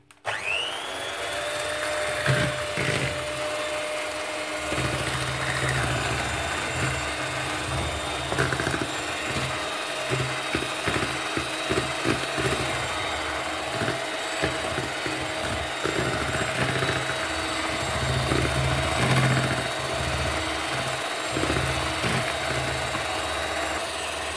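Electric mixer beating sablé biscuit dough with sugar and vanilla, a loud, continuous motor whine close by that runs steadily for the whole stretch with small bumps as the beaters hit the bowl.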